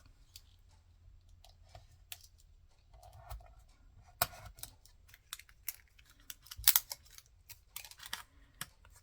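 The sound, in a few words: cutting a photo slide with a knife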